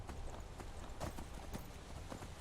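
Steady clip-clopping of horse hooves in the video game Skyrim, a quick, even rhythm, close and clear over a low background hum.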